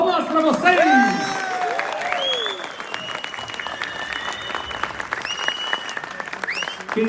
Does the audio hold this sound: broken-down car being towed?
no